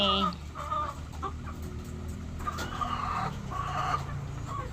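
A limping, injured chicken clucks close by in a series of short, uneven clucks and soft squawks, with faint background noise throughout.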